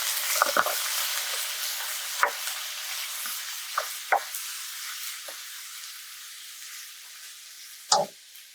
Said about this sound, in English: Now the oil has heated up, so it's time to add the pork